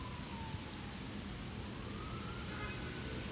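Emergency vehicle siren wailing at a distance along a street, rising and falling faintly over steady traffic rumble and background noise.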